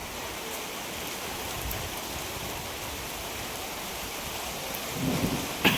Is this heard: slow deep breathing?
no